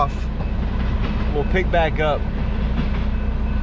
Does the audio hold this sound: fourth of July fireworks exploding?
no